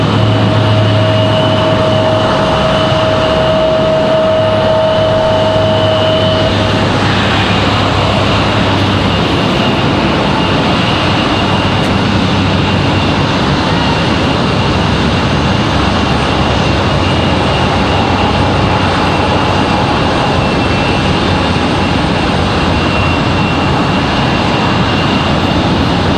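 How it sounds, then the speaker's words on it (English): Embraer E-175 jet taxiing to its gate at Raleigh-Durham International, a loud, steady engine drone with a sustained whine, continuing unbroken and close by. "As you can hear, that E-175 finally making it to the gate here."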